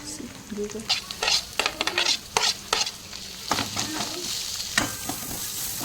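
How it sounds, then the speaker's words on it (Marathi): Medium-sized chopped onions sautéing in oil with peanuts until golden brown, a soft sizzle under irregular clanks and scrapes of a spoon against the pan, close by, with no talking. "आता दोन कांदे मी चिरून घेतलेले मीडियम साईजचे ते पण गोल्डन ब्राऊन होईपर्यंत परतवायचे"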